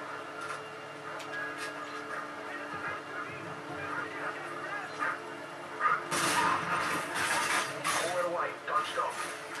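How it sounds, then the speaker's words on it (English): Several dogs yap and bark in short bursts against a busy background, growing louder and more crowded toward the end, with people talking nearby. "Too many dogs."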